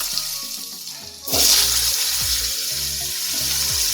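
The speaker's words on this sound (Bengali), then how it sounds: "এবার আলুগুলো ভেজে নেব।" Potatoes cut for a fish curry dropped into hot oil after a second of quiet, bursting into a loud sizzle that settles into steady crackling, with a short sharp clatter of pieces landing.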